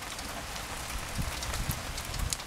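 Rain falls steadily outdoors on a wet day, a soft even hiss of drops striking surfaces close by. A few heavier patters stand out near the end. No one speaks.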